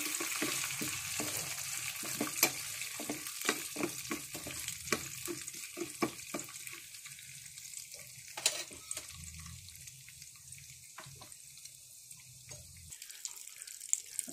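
Curry leaves and finely chopped cashews tempering in hot oil for rava masala appe, a close, continuous crackling sizzle full of sharp pops that softens toward the end.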